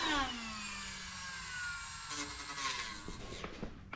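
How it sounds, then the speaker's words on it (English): A grinder cuts down the top of a ball joint on a big-block Camaro. A high, whining tone winds down, followed by rougher scraping bursts, fairly faint and close, with no speech. "very strategically grind those off"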